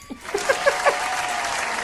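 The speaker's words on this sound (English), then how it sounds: "Where are my claps?" Live audience at an evening event clapping in a steady burst, with a few short cheering voices rising over the applause near the start.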